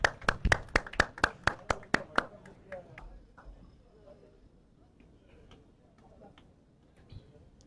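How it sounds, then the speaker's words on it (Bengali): A run of about eight sharp, evenly spaced hand claps rings out at an annual sports meet, loud and close, then gives way to a low murmur of crowd noise with a few scattered claps. "যারা নিচ্ছেন না একটা জোরদার হাততালি হয়ে যায়"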